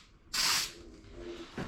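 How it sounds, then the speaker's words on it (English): Spray adhesive hisses from an aerosol can in one short, strong burst, followed by a brief weaker puff, close up, while re-padding the front seat of a 1959 Chevrolet. "Actually, I could probably spray it this way."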